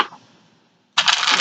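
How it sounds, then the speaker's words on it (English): A short burst of cards riffling together after a brief pause, loud and close, a crisp papery flutter lasting about half a second. "we will give 5 shuffles"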